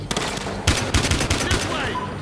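Gunfire in the video game Battlefield Hardline, bursts of rapid automatic shots mixed with single heavy reports, loud and close over a constant background rumble.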